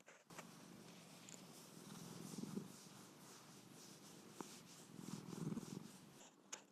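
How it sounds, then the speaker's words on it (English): A cat purrs softly and continuously up close, a low steady rumble with gentle rhythmic swells and no talking. "Wait, I'll give you the purring as well."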